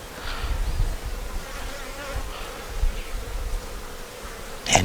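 Honey bees buzz around a large swarm, a dense continuous hum close by with individual bees droning past, ending in a sharper brief burst.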